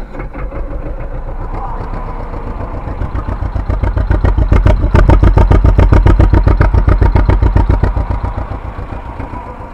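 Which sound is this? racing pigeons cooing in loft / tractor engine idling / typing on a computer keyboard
tractor engine idling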